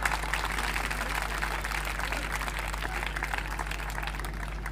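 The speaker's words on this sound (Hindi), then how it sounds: "मोहित सिंह जी के लिए जोरदार तालियां।" Loud applause for a social worker at a village ceremony honouring a top-ranking tenth-grade student, a dense continuous wash of clapping over a steady electrical hum, even and sustained throughout.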